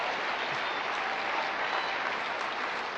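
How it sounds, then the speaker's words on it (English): An audience claps steadily and densely, a broad wash of applause that stays even from start to finish with no voices over it. "Give them a big round of applause."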